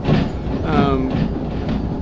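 A train rolls steadily along the rails in the Derail Valley railway simulator, a continuous near rumble with faint squealing wheel tones rising over it.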